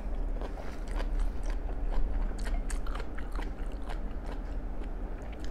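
Tough grilled long-tentacle squid being chewed close up, a steady run of soft wet biting and gnawing sounds with faint crunches over about five seconds, no talking.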